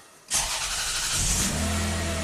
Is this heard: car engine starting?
yes